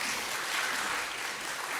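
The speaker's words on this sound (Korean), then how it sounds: "하나님께 영광의 박수를 올려드리겠습니다" A church congregation applauds together during a service, a dense continuous wash of many hands clapping at moderate volume, steady for a couple of seconds with no voices over it.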